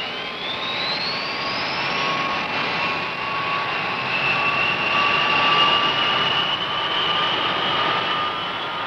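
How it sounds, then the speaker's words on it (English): B-52 bomber jet engines on a 1968 Strategic Air Command flight line, a loud steady turbine roar with rising whine tones, sustained throughout without speech. "Everything ready, the B-52s taxi out and are soon on their way."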